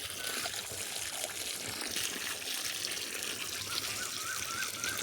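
Water runs from a pipe in a steady, splashy stream, close and continuous with a faint trickling texture and no pauses.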